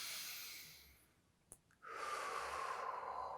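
A slow, deep breath drawn in during a gentle breathing exercise, with eyes closed. It is soft and close, followed by a short pause, a small click and then a long, steady airy exhale.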